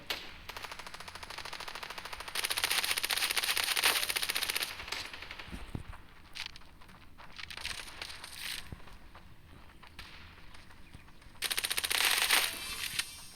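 Bursts of rapid automatic gunfire in Standoff 2, loud and close, separated by quieter stretches with occasional single shots and clanks.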